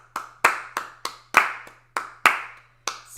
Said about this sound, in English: So I'm going to clap 1, 2, and can you fit 3 16th notes in every one of my claps?